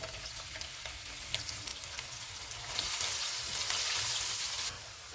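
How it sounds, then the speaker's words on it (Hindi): Sliced onion sizzles in hot oil with whole cardamom for gobi pulao, a steady close crackle that swells louder partway through and settles again near the end, with no talk. "एक प्याज डालेंगे, इसको गोल्डन फ्राई करेंगे।"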